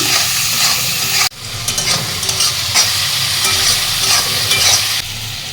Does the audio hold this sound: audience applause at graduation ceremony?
no